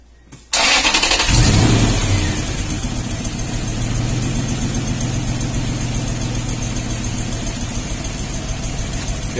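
2002 Toyota Tundra with a misfire diagnosis underway, one coil pulled and grounded, cranking briefly and then catching with a loud rev before dropping to a steady, close running idle that carries on to the end.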